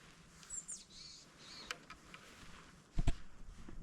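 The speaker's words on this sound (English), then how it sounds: "we have some boreal chickadees around us right now" Boreal chickadees call around a mountain trail in Jasper National Park, giving a few high, thin, fairly faint chirps and buzzy notes against quiet outdoor ambience, with a couple of nearby knocks and rustles.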